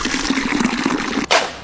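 Water poured from a container at a building site for mixing mortar: a continuous splashing, gurgling stream for over a second, then a brief louder gush as the flow ends.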